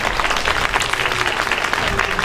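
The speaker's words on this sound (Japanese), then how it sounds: "本当に拍手を。" Audience applause after a folk band's live performance at a folk music concert, dense steady clapping from a sizable crowd, loud and close, continuing throughout with no pause.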